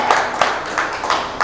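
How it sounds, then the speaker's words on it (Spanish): A church congregation claps in faint, spread-out bursts of about five soft rhythmic claps, sounding thin and distant with no talking over it. "Denle ese aplauso al Señor."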